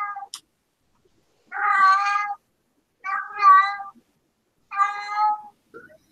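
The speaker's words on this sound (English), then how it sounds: "Hey, I can hear a cat." Cat meowing three times, each meow drawn out and tonal, with pauses between and a faint short cry at the start and end, fairly close and alone.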